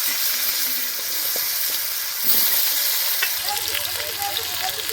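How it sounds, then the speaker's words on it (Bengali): Washed potatoes drop into hot oil with mustard seeds and a bay leaf, sizzling loudly and steadily, with scraping stirs and a brief hissing surge partway through. "ধুয়ে রাখা আলুগুলো ছেড়ে দেবো"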